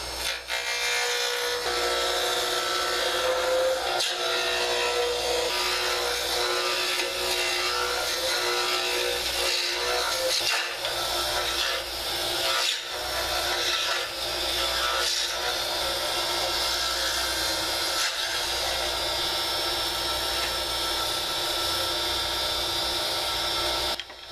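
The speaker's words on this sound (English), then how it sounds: "3/4 inch roughing gouge made by Crown Tools" An Alumilite pen blank spins on a lathe under a Crown Tools 3/4 inch roughing gouge, giving a continuous loud, close scraping whir with slight shifts in pressure.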